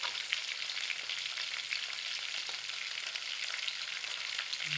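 Fish, likely tilapia, frying in a pan gives a soft, continuous crackling sizzle that stays faint and even throughout, with no talking.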